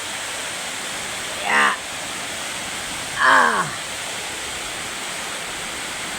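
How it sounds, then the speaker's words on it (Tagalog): Heavy rain pours outside a house during the first strong downpour of the season, a steady dense hiss throughout, with a voice briefly speaking twice over it. "Narinig nyo guys yung ulan."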